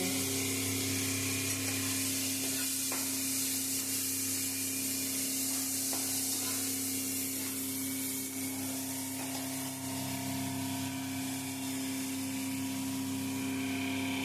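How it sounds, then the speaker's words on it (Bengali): Onions gradually added to chicken in a pan after potatoes were fried, sizzling steadily in hot oil with a constant low hum behind, a few faint knocks scattered through the continuous hiss. "এবারে পেঁয়াজগুলো আস্তে আস্তে দিয়ে দেবো চিকেনে"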